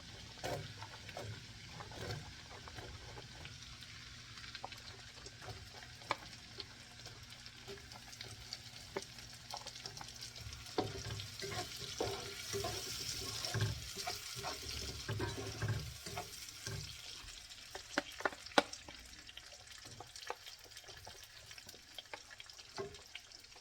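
Onions fry in a pan for pav bhaji, a steady close sizzle broken by scraping stirs and a few sharp clinks, with a faint stretch of running tap water partway through.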